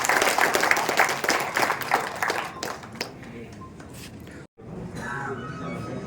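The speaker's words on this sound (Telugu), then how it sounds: "ఇక్కడ అందరికీ చప్పట్లు" Audience applause at a Telangana timber merchants and saw millers federation event, with dense clapping loudest early on, then thinning and fading. A brief gap comes before a quieter crowd murmur with some voices resumes.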